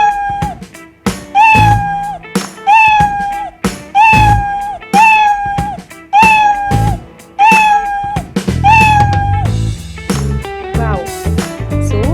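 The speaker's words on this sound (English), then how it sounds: "so our little catty is also saying meow" A cat meow sound effect repeats about eight times at a regular pace, loud and close, each meow rising then falling.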